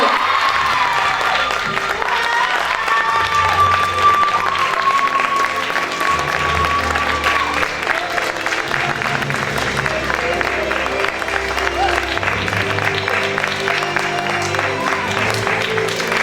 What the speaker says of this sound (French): Applaudissements pour Miss N 2020.